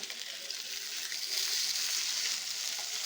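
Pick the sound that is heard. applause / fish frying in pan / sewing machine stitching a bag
fish frying in pan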